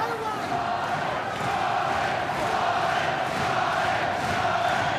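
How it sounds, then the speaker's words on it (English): A boxing crowd at a British 160lb title fight roars and cheers in a sustained, steady wall of noise through the final round, distant and unbroken. "Just listen to the crowd trying to will Scott Dan over the line here"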